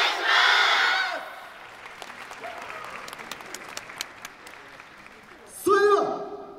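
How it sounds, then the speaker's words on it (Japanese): Applause from a yosakoi dance festival audience at an outdoor oval forum in Awaji, opening with a loud burst of clapping, then settling into softer, scattered rhythmic claps before a voice and louder crowd noise return at the end. "皆さん熱いお手拍子のほどよろしくお願いします。"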